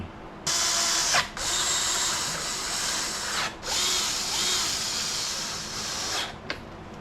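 A power drill runs in long, steady bursts with short pauses between them, driving the bolts back into a Craftsman M110 mower's 140cc Briggs & Stratton engine. The whine is loud and close.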